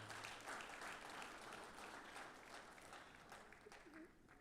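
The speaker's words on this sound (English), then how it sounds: "Please, let's clap for them." A crowd at the grand finale of a World Day Against Human Trafficking inter-university event gives a continuous round of applause, heard faint and distant throughout.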